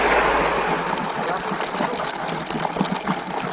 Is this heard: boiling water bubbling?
yes